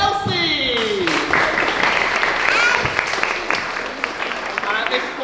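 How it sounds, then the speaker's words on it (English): Sustained applause at a Charlton Horethorne school leavers service, July 2021, with a voice at the start, then steady clapping from a close group of people that eases slightly toward the end. "Round of applause for Elsie!"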